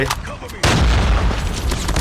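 A grenade goes off in the mobile shooter Call of Duty Mobile, a sudden loud blast that stays as a dense, rumbling roar with scattered in-game effects.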